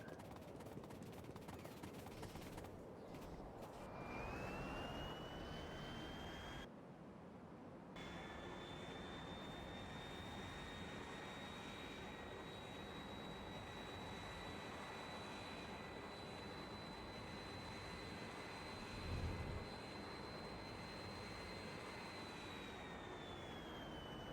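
Steady airplane engine drone in the video game Factorio, a continuous mid-level whine with a rising tone that holds for over twenty seconds, briefly interrupted once, with no talk.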